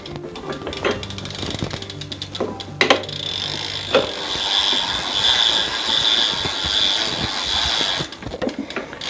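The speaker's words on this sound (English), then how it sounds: "These bikes are freewheel. Pedal it backwards." A freewheel on an S.E. Bikes Blocks Flyer BMX ticks and ratchets as the pedals are turned backwards, with quick clicking bursts and a rattly mechanical whir, close and fairly loud.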